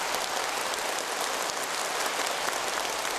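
Party congress participants delivering thunderous, sustained applause, a massed, even roar of clapping that sounds almost like heavy rain, steady throughout with no voices.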